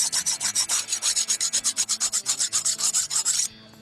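Rapid rhythmic scrubbing rasps on a forged camp knife blade as stubborn forge scale is worked off, about two dozen even strokes close up, ending abruptly.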